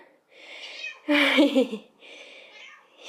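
A house cat meows several times, with one louder, drawn-out meow in the middle framed by softer calls, close by with no talk over it.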